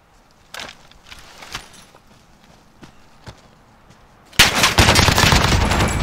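GRAU rifle gunfire in Call of Duty Warzone: sharp single shots spaced out at first, then a sudden loud, dense burst of rapid automatic fire that carries on to the end, without talk.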